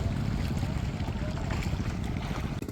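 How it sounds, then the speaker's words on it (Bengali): A hilsa fishing trawler's engine drones steadily with a low rumble, mixed with wind and water noise, continuous and close. "আমরা যে ট্রলারে আসছি এটাও ইলিশের নৌকা"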